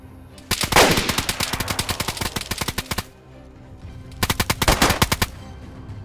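Automatic gunfire in a DayZ firefight comes in two sharp, loud bursts of rapid shots, one long and one shorter, with a quiet gap between them and no talking.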